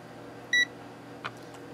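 A Victor VC 921 multimeter gives a single short, clear electronic beep, followed by a faint click a moment later against a quiet background hum.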